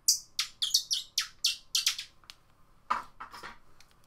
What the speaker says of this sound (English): Or this bird call.